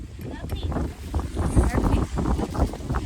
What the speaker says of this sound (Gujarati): એકદમ તોફાન નીકળ્યું છે એકદમનો પવન આવે છે